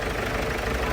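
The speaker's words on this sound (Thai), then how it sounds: "อันนี้เป็นเสียงของหัวฉีดนะครับ" A Ford Ranger diesel engine runs steadily up close, with a continuous metallic ticking knock from the injectors over the low rumble.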